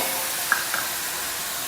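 Crushed onion sautéing in oil for dal tadka, a steady soft sizzle and hiss with a couple of faint stirring clinks early on, no voices.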